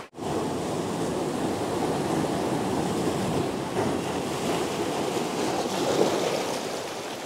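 Sea waves break against the steep rocky beach below Cabo de Rama fort in Goa, a loud, continuous wash of surf with no voices.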